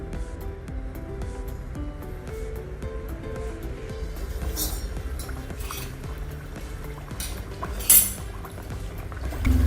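Puris hit hot oil in a pan and sizzle with a steady bubbling fry, broken by a few clinks of a utensil against the pot and one sharper clatter near the end. No one talks over the frying.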